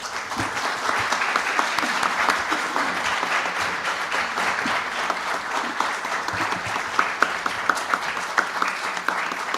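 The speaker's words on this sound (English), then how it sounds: "Let's give her a big round of applause." A crowd at a press conference on a SNAP grant applauds, sustained dense clapping from many hands that stays steady for nearly ten seconds, with sharper individual claps standing out toward the end.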